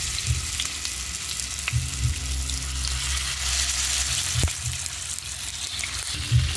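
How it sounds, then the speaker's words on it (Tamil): Chicken pieces fry in hot oil in a frying pan, a steady close sizzle running throughout with occasional clicks and a sharp knock from the pan or utensil. "எண்ணெய் காய்ஞ்சதுக்கப்புறம் நம்ம சிக்கனை வந்து அப்படியே ஃப்ரை பண்ணி வச்சுக்கலாம்"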